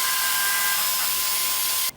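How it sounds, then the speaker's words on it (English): A regular drill bit bores straight down into a small desk clock build, giving a steady, loud high-pitched whine with hiss that runs unbroken for about two seconds and then cuts off. "now I'm going to take just a regular drill bit and drill straight down"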